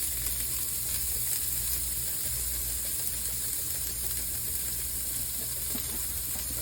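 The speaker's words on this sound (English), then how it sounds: "I'm also going to add some minced onion." Minced onion frying in a pan for a meatball pasta sauce, giving a steady, dense sizzle with a constant hiss that runs unbroken and close throughout.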